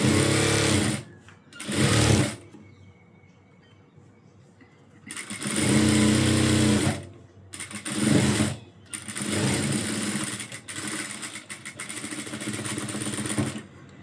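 A sewing machine stitches a blouse in bursts, loud close whirring runs starting and stopping several times with short quiet gaps between, then a longer steady run to the end.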